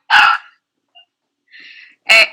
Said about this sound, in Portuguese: Dois cachorrinhos.